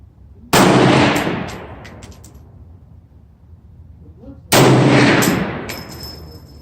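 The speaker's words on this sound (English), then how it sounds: "All right, here goes the third shot at 50." Two loud, close rifle shots from a Bear Creek 450 Bushmaster at a 50-yard range, each a sharp blast followed by a long rumbling decay, spaced about four seconds apart.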